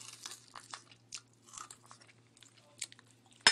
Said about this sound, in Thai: อันนี้ก็กรอบกรอบ